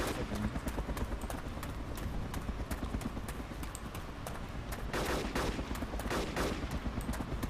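Gunfire crackles in the DayZ Epoch Namalsk game during a base raid: rapid bursts of shots, some sharp and close, others in quick volleys, with footsteps running under them and no talk.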